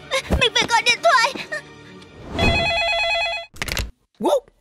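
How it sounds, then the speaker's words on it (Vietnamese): A cartoon telephone rings with a bright, steady electronic trill lasting about a second, after animated voices speak in Vietnamese. Another short voice follows. "Mình phải gọi điện thoại."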